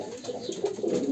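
Pigeons cooing steadily at close range for about a second, several low soft coos overlapping in a flock of kept birds.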